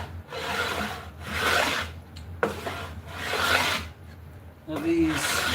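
Hand plane shaving 100-year-old wood in a few long, rasping strokes, each a bright scraping sweep followed by a brief pause, close and moderately loud, with quiet talk between strokes.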